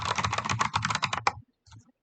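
Fast manual typing on a computer keyboard while writing C code: a quick, dense run of close key clicks, a short pause, then a couple more taps.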